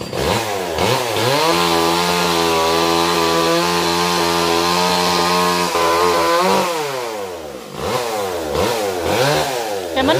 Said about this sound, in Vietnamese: À, bây giờ chú Dân sẽ leo lên để cưa hai cây mít luôn.